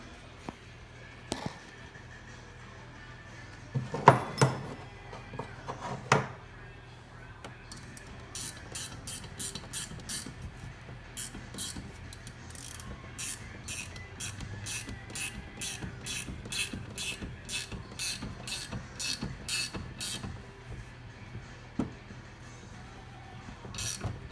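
A valve spring compressor is cranked down on an LS engine cylinder head, with a few sharp clanks early on, then a long run of quick, evenly spaced metallic ratchet clicks close by at moderate volume.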